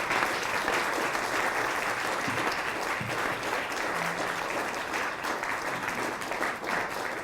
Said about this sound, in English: Please give a wonderful applause to all of our presenters.